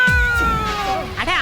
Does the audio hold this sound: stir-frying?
no